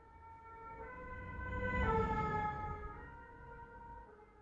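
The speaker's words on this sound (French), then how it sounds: "une voiture de pompiers passe dans la rue à ce moment-là" A fire engine siren wails as it passes along a street, rising in loudness to a peak near the middle and then fading away, with a steady tonal sweep over low traffic rumble.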